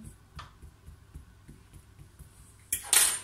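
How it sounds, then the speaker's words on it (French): A fork pricks holes into semolina bread dough in a pan, a series of soft, evenly spaced light taps close up, ending in a sudden louder rustling burst, with no talking. "On va récupérer la fourchette, on va faire des trous, pas beaucoup de trous"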